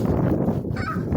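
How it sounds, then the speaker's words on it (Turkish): Many pigeons on a beach honking and squawking at once, a dense, close flock chattering continuously. "Oh, bir sürü kuş var kız."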